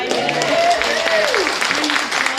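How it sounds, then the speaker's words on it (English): A small crowd at a ukulele club night applauds the volunteers who cooked sausages, giving steady clapping throughout while a voice carries on talking over it. "I want a huge round of applause for our sausage guys, please"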